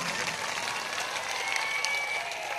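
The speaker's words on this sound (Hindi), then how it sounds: "एक बार जोरदार तालियां बजाओ नरेंद्र मोदी जी के लिए" Crowd at a political rally in Delhi applauds with steady, dense clapping that fills the short stretch evenly at moderate loudness.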